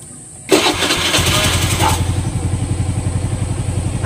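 A SkyDrive Sports 115 motorcycle engine that tends to start hard in the morning cranks briefly and catches, then settles into a steady, close, rhythmic idle with a regular pulsing beat and no talking.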